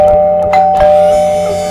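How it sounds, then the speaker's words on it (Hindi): A doorbell rings inside a home in Mumbai with a steady electronic tone and two quick chime strikes, loud and close, with no voices. "मैंने डोरबेल बजाया।"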